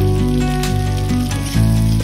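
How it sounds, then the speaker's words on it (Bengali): Cauliflower frying in hot oil for a Bengali bhola fish curry with potatoes, a loud, steady close sizzle with crackling bursts, continuous throughout with no talk. "ফুলকপি আমার ভাজা হয়ে গেছে"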